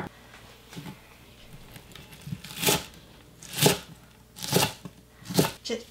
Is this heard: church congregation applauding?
no